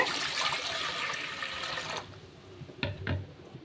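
Water pours into a pan set on a stove for cooking cauliflower, a close, steady rush for about two seconds, followed by a couple of soft splashes and clunks.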